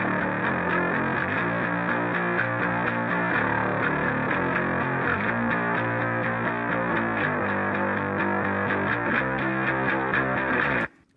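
Soloed treble side of a bass guitar through amp emulation, a thin, gritty distorted tone playing a steady riff that holds at even loudness throughout and stops abruptly at the end, with no voices.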